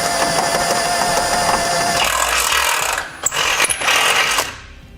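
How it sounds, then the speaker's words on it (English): A power drill with a 1/2-inch bit enlarges a hole in a vehicle's frame, whirring and grinding loudly, stuttering briefly near the end before winding down to silence. "we're going to take a 1/2-inch drill bit and we're going to enlarge that."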